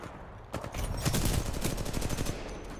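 Rapid bursts of automatic rifle fire from a G2A4 in a video game, loud and sustained after a brief quiet start, with dense overlapping shots and no talking.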